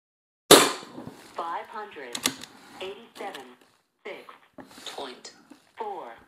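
A single sharp pop from an SMK Victory CP2 .177 CO2 air rifle opens the stretch, close and loud, followed by someone talking at length.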